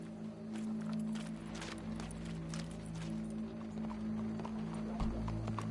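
Steady hoof clip-clops of a horse walking in the video game Red Dead Redemption 2, repeating in an even rhythm over a constant droning background, with no voices.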